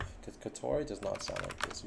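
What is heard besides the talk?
computer keyboard typing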